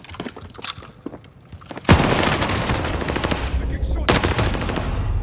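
Bren light machine gun in the Warzone battle royale game, firing a sustained automatic burst that starts abruptly after quieter sounds, loud and close, with a short break before the burst resumes.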